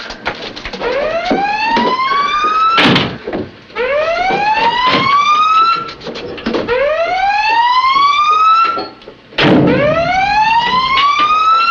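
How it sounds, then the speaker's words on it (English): A submarine collision alarm sounds during a crash dive, a loud electronic whoop rising in pitch over and over in a steady repeating cycle, each sweep cut by a brief clank before the next begins. "Sound collision alarm."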